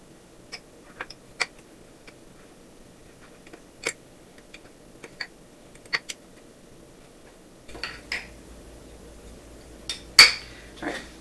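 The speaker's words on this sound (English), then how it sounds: "I'm just going to mix this." A utensil stirs apple fritter bread batter in a bowl, giving scattered, irregular light clinks and taps against the bowl with quiet gaps between them, close by and with no voices.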